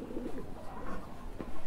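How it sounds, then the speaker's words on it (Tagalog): Pigeons cooing on Kaibayo island in Catanauan, Quezon; soft, low rolling coos repeat close by in a short burst with faint outdoor ambience. "Ang dami ibon, no? Kalapate."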